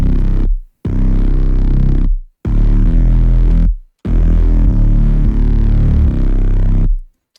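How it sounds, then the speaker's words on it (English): A thick, sustained Reese bass is played in trap-style phrasing, heavy and loud, in long held notes broken by short gaps, with no voices. "And then I got a Reese bass that I just play like you would in any like trap loop or trap"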